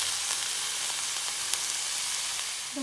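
Cauliflower sautéing in a pan over reduced heat gives a steady, even sizzle with a soft crackle close by, holding constant throughout with no talking.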